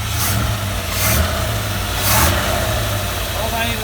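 An early Ford Bronco engine runs steadily close by after its first start in 26 years, a loud smooth idle with a few gentle swells in revs, and a voice speaks briefly over it.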